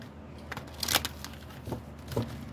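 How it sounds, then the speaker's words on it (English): Tarot cards being shuffled by hand, with a few short riffling bursts and soft papery crackles close by, the loudest flurry near the start and two quieter ones after, no talking. "These cards are kind of hard to shuffle."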